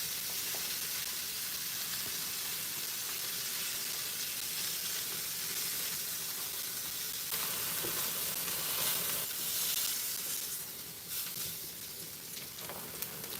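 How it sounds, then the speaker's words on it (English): Salmon and broccolini sear in a hot pan for a quick home lunch, giving a steady, close crackling sizzle that swells slightly partway through and runs unbroken, with no talking. "And then we see the salmon is browning."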